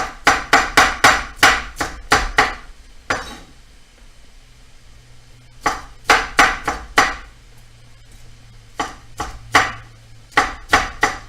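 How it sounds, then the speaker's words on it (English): Knife cutting a bell pepper into half-inch strips on a board: quick bursts of sharp, rhythmic chopping knocks, close and fairly loud, separated by short quiet pauses, with no talking. "And the pepper, you want to make that nice and nice strips that are about a half an inch in dimension."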